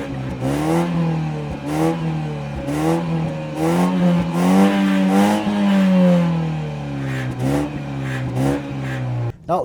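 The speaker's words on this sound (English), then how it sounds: "This particular version, being the 330i with the inline 4-cylinder petrol engine, has a pretty rotty exhaust note" A BMW 330i M Sport with an inline four-cylinder petrol engine accelerates hard, its raspy exhaust note climbing in pitch through several repeated sweeps with brief dips at each gear change, loud and close throughout.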